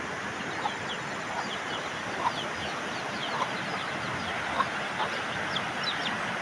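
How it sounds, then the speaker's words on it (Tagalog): Chickens clucking around a rural home in the Philippines, short soft clucks repeated at intervals over a constant hissing background of insects or wind, somewhat distant. "Manok nagsamok-samok guys."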